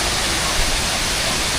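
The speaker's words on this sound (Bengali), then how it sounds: "মাঝখানে এখানে ছোট্ট একটা ঝর্ণা রয়েছে" Small waterfall on the way down to a larger falls in Purulia, heard as a steady, loud broadband rush of falling water, continuous and close, with no voices.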